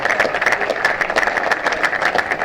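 Standing crowd at a Gloucestershire vs Northamptonshire cricket match keeps up warm applause for a batsman leaving the field, a continuous even patter of many hands clapping at moderate loudness.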